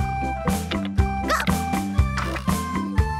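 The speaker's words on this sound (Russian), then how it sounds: "Собачка Гав-Гав." A cartoon dog in a children's animated show gives a steady run of short, bright barks and yips, about two per second, over a light musical backing.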